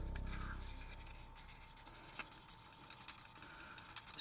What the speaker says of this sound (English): Just give the rotor button a little polish up, make sure it's throwing a good arc.